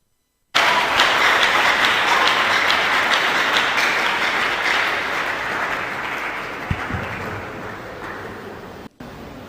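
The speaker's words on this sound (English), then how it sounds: "Everybody's clapping." A large audience at a tech event claps after a segment, the dense applause bursting in loud and sustained, then slowly thinning and fading toward the end.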